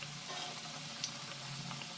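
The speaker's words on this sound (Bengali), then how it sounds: "আমি এবার ভাজতে শুরু করে দিয়েছি দেখো এক পিঠ ভাজা হলে উল্টে দেবো" Badam puri sweets made with atta fry in hot oil for a Diwali recipe, a faint, steady bubbling sizzle with a small pop, continuous and quiet.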